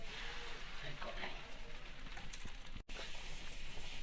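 Aloo paratha frying in oil in a kadai gives off a soft, continuous sizzle, faint and steady throughout with a brief dropout near the end.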